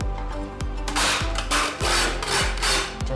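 Grated garlic scraped off a grater into a spicy cracker mixture, a loud rhythmic rasping with repeated strokes about every half second, close up and without talk.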